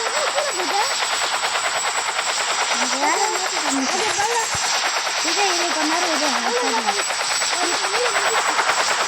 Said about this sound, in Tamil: அங்கே பாருங்க helicopter helicopter helicopter copter copter